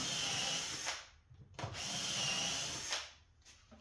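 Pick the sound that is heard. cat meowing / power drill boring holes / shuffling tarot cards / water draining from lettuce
power drill boring holes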